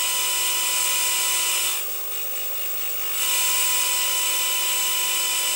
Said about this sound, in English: I get the test tone